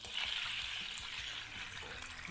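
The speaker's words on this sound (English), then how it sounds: "Now we're going to go in with the broth." Broth is poured into a pan sauce over a syrupy sherry and red wine reduction, giving a steady, close splashing pour that runs unbroken for about two seconds.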